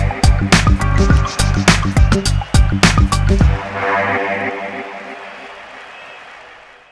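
A sequenced drum pattern from the FXpansion Geist drum sampler, with punchy kicks, snappy hits and a bass line in a steady rhythm for a few seconds, then a decaying tail fading into quiet.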